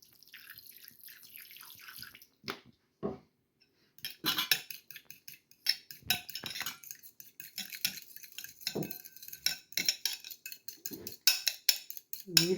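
Lemon, oil and mustard are stirred into a salad dressing, heard as rapid, irregular clinks and taps of a utensil against a bowl, close and fairly crisp, starting sparse and then turning busy and continuous.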